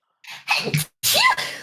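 A person sneezes once, loud and close, with a short sharp intake of breath followed by a forceful burst, in a quiet indoor setting.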